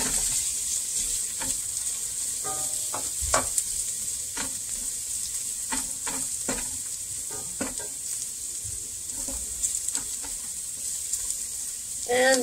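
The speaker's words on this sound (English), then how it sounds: "I'm going to add my chorizo." Chorizo frying with garlic in a pan, a steady bright sizzle throughout with scattered clinks and scrapes of stirring.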